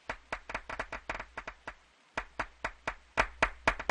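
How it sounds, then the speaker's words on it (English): Sharp hand claps ring out alone in an irregular series of about twenty, some in quick bursts and others spaced apart, fairly close and moderately loud. "Yeah, I hear the clapping."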